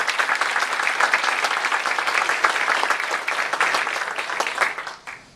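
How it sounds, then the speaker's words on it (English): An audience at a district candidates forum gives a steady round of applause for the event organizers, dense, even clapping that holds for several seconds and then cuts off quickly. "Can we please give them a round of applause?"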